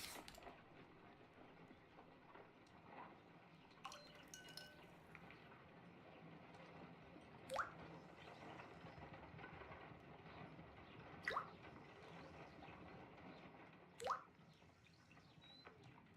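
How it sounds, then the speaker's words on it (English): Several distinct drops fall from a pipette of hydrogen peroxide onto a sample at an analysis table in Sherlock Holmes: Crimes and Punishments, sharp isolated drips spaced seconds apart over a soft, steady background hum. "I must take a pipette and place several drops of hydrogen peroxide."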